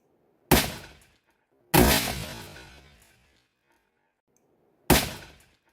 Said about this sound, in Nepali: यस्तरी फायर गर्यो, खतरा गरी हान्यो।